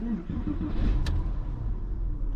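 Car engine cranking and catching, a low rumbling turnover that settles into a steady idle, with a brief sharp click partway through.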